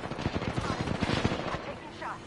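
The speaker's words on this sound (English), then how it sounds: "I'm taking shots." Rapid gunfire hits the player in the video game Apex Legends, a quick burst of sharp cracks in a fast rhythm followed by fainter shots and game effects, fairly quiet in the mix.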